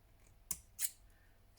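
Two crisp snips of scissors cutting the centre out of a brown paper lap book piece, close and distinct, followed by a third fainter snip at the end, with quiet room tone between.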